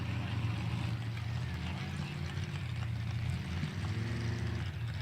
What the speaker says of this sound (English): Fear Not in the water now, the 623 boat